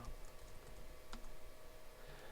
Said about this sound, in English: I keep typing in my password